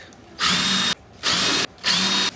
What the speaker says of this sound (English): once you have your pilot holes, we're going to countersink